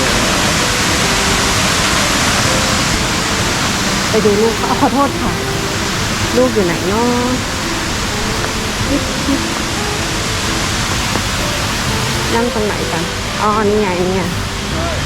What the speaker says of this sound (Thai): โอ้จุดนี้มีน้ำตกอีกแล้วค่ะ